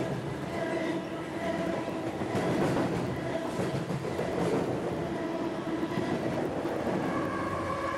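A freight train rumbles past in Humboldt County, California, a steady loud rolling roar of railcars with faint clacking of wheels on track that holds for the whole stretch without any talk.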